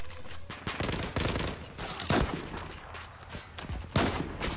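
Gunfire in the Zula shooter video game: rapid, loud bursts of automatic fire, nearly continuous, with several sharper single shots standing out.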